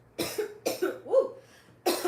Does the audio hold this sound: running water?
no